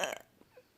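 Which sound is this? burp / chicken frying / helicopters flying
burp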